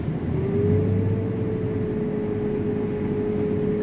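Steady low engine drone of a combine harvester revving while threshing wheat, a sustained hum with a faint rising tone, loud and continuous with no voices.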